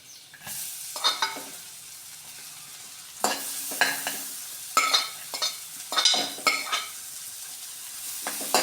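Chopped onions sauté in melted butter in a pan, a soft steady sizzle broken by irregular scraping stirs and light clinks of the spoon against the pan, close and moderately quiet.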